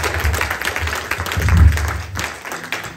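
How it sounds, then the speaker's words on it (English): Church worship audience at a live EvolveU event clapping in praise, a dense wash of applause that swells and fades, with a voice speaking over it. "Come on and give God a hand clap of praise."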